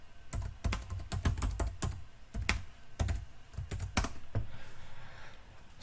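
A password tapped out on a computer keyboard, with quick clusters of crisp key clicks and brief pauses between bursts, close and fairly quiet, with no talking.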